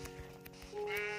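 A short sheep bleat from Minecraft, faint and game-like, rising into a brief tonal call over quiet background.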